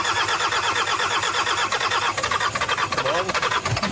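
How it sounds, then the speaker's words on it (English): A badly destroyed Toyota Hilux, dug out by an excavator, cranks and its engine catches, running loud and close with a rough, uneven rumble; a voice is faintly present beneath. "But actually engine is still working."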